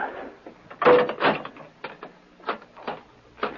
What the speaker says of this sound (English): Now close and lock the door.